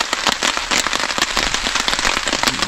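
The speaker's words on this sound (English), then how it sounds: "But now it seems like this rain is never ending." Heavy rain beats on a tent during winter camping in deep snow, a close, constant patter of many dense drops with no break.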